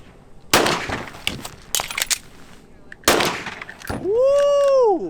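Gunshots during target shooting drills, sharp loud cracks in quick bursts and single shots with ringing echoes, followed by a long warbling electronic tone near the end.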